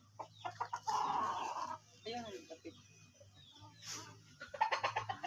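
Chickens clucking at a farm in the Philippines, bursts of short cackles near and loud at the start and end, with quieter stretches between and a low steady hum underneath.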